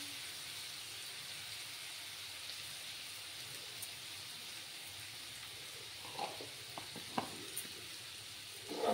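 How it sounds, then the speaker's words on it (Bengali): Spices sizzle in a pan after a splash of hot water, a steady faint frying hiss with scattered pops and crackles growing near the end, no voices. "সামান্য একটু গরম জল দিচ্ছি আমি, যাতে করে মশলাগুলো না পুড়ে যায়"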